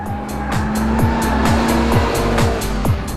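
MINI Coupe with stability control switched off sliding through a corner, a loud close engine drone with repeated rising gear-like pulses and tire noise throughout, continuous and unbroken.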